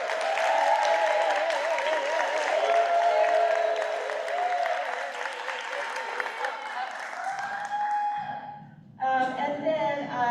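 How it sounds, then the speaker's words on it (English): An audience at a school district board meeting applauds in a sustained, crowded clatter of clapping while a voice talks prominently over it. The applause thins near the end as speech carries on. "would you please give them a big round of applause?"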